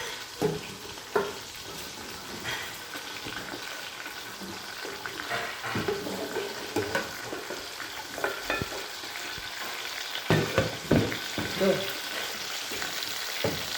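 Onions tossed into a pot with meat and no oil fry with a low crackling hiss, punctuated by scattered scrapes and knocks of a spoon stirring, close and continuous with no clear talking.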